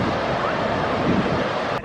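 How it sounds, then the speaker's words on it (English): Fierce rushing water of the Niagara River rapids breaking in the gorge, a loud, steady broadband roar with wind buffeting the microphone, ending in a brief bump near the end. "Look at that water breaking right there."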